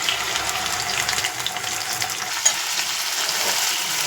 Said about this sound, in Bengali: চিকেনটা আগে ফ্রাই হয়ে যাক